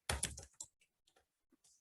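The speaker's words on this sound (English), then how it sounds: "And when you start typing in" Someone types on a computer keyboard: a quick flurry of soft, close keystrokes, then a few scattered clicks with quiet gaps between them.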